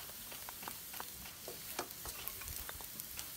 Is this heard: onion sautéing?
yes